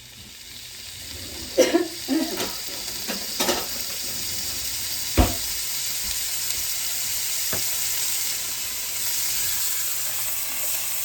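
Mushrooms sizzling in a frying pan on a burner, a constant close hiss with a few clattering knocks of a utensil against the pan early on and one sharper tap midway.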